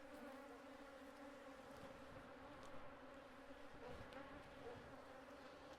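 Honey bees inside an opened hive at an apiary make a dense, continuous buzzing drone. The hum stays even and close throughout, with no voices over it.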